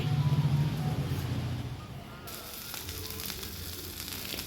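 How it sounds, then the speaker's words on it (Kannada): Butter dosa sizzling on a hot pan as butter melts, a steady close hiss and crackle that continues throughout, with a low hum underneath at the start. "ನೋಡಿ ಎಷ್ಟು ಚೆನ್ನಾಗಿ ಬೇಯ್ತೈತೆ ಅದು ಬೆಣ್ಣೆ ಕರಗಿ"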